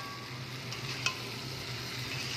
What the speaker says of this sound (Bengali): ডিম আলুটা দিয়ে একটু নাড়িয়ে নিলাম